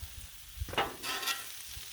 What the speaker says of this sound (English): Anyway, keep it stirred, and you want to make sure your broccoli's done, especially.